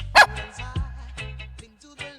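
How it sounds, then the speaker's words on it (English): A dog barks outdoors near a shoreline in Belmont Shore, with a sharp loud bark up front followed by several softer yips and woofs scattered across the moment. "Oh, hey, doggy."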